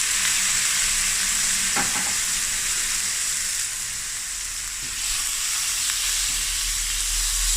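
500 grams of shrimp fry in butter and a little olive oil in a pan, a loud, steady, close sizzle throughout with a few soft knocks of stirring, no voices.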